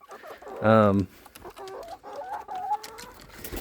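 Backyard chickens around a DIY coop: one loud close cluck or squawk, then softer scattered clucks and chatter from several birds, with faint movement noise.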